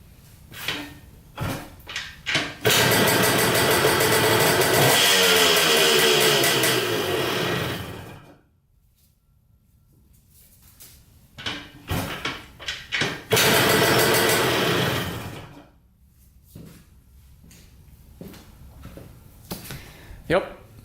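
Yamaha MX 175 dirt bike engine starting and revving after a repair, two loud sustained bursts of engine roar separated by quiet clicks and handling noises, with speech heard between them.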